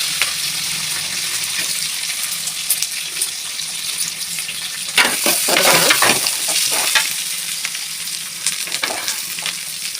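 Onions hitting hot oil with mustard seeds, fennel and curry leaves, a loud continuous sizzle with crackles and a brief surge of spattering midway, no voices.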